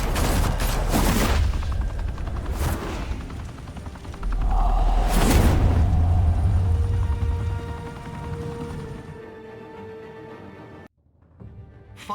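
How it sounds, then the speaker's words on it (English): Gunfire erupts in a Batman video game set in Gotham, with rapid volleys and sharp bursts of shots crackling loudly, then thinning out and fading toward the end. "Open fire!"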